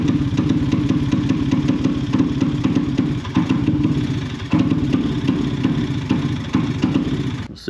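A Honda Ruckus scooter fitted with a 400cc Suzuki Burgman engine runs close by with a steady, clattery buzz and slight dips as the throttle is worked, with no talk.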